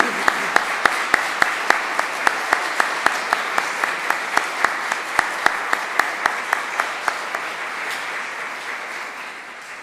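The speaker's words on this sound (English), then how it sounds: "maybe we could give them a round of applause for a job well done." A church congregation applauds on Good Friday after the Stations of the Cross, with sharp claps in a steady, rhythmic pattern that fills the room for about ten seconds at a fairly loud level.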